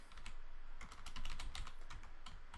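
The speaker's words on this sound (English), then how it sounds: "now if we go to add and we start typing" Rapid typing on a computer keyboard, a close, continuous run of crisp key clicks with brief pauses, no voices.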